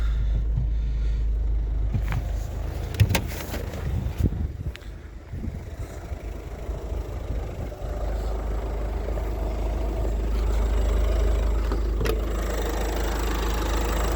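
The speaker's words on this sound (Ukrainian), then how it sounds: "Зараз вам покажу під капотом, як працює двигун." A 2018 Ford Focus 1.5 dCi diesel engine idles steadily, heard close up under the hood, a constant low rumble with a few clicks and light clanks over it, no voices.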